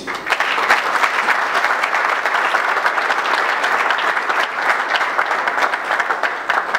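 A conference audience applauds steadily as Thomas Luhaka is welcomed to the podium for a talk on the conflict between the Democratic Republic of Congo and Rwanda, a dense, even wash of clapping lasting throughout.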